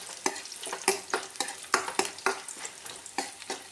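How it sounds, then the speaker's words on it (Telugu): Dried red chillies fry in hot oil for a snack tempering, a soft sizzle broken by regular scraping stirs of a spatula against the pan, close up with no voices. "ఇందులో వేసుకున్న ఎండుమిర్చి మనం మామూలుగా తింటే చాలా టేస్టీగా ఉంటుందండి. అందుకే కొంచెం ఇది గోల్డెన్ బ్రౌన్ కలర్ వచ్చే వరకు కూడా ఫ్రై చేసుకోవాలి"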